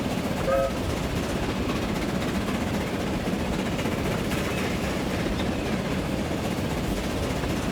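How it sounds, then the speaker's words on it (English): Steam locomotive hauling carriages uphill in the railway game Transport Fever 2, a steady low rumbling chug and rolling clatter that continues evenly throughout, with no talk. "This locomotive is capable of carrying or taking these carriages at 50 miles per hour whilst going uphill"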